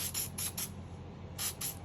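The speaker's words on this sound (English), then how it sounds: "just spray the barrel outside." Synthetic gun oil sprays from an aerosol can onto the outside of a handgun barrel in several short hissing bursts, close and fairly quiet, with brief gaps between them.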